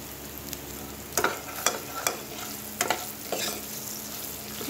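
Asafoetida and turmeric fry in hot oil for raw-mango dal, a steady soft sizzle broken by several sharp stirring clinks of a spoon against the pan, close and moderately quiet, with no talking.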